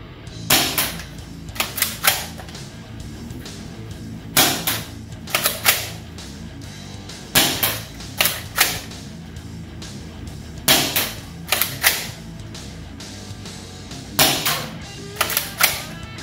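AEON PRO foam dart blaster firing during an accuracy test, a series of loud, sharp snapping shots, often in pairs or triplets, separated by short quiet gaps.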